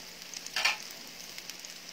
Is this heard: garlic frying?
yes